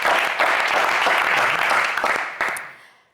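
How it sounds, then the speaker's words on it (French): Studio audience applause for contestant Romuald on a French TV game show, dense clapping that fades away toward the end. "on applaudit Romuald, s'il vous plaît"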